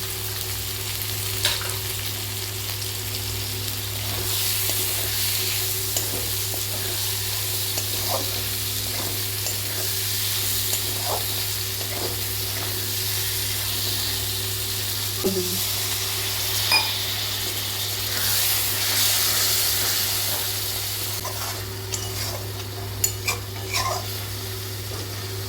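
Okra and onions fry together in a pan with a steady, broadband sizzle that runs the whole time, punctuated by occasional stirring scrapes and light clinks of utensils against the pan, with a low steady hum underneath.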